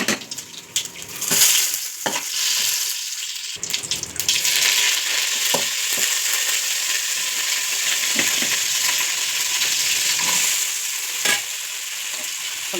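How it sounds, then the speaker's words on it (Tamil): Mustard seeds, cumin, dried chilli and a little urad dal crackle and sizzle in hot oil, a steady bright frying hiss with scattered pops and a few utensil knocks, no voices. "எண்ணெய் காஞ்சிடுச்சுங்க. கடுகு, சீரகம், காஞ்ச மிளகாய், கொஞ்சோண்டு உளுந்து."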